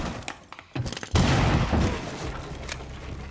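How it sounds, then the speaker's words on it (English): Gunfire through a window in Rainbow Six Siege comes as a few sharp bursts, the loudest a dense rattling blast past the first second, over a noisy muffled background. "Shoot through that window."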